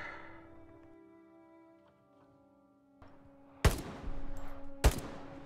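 Two sharp G43 rifle shots crack out a second apart in the World War II game Hell Let Loose, loud against a quiet, humming battlefield background.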